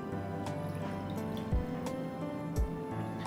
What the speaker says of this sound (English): we're gonna add some milk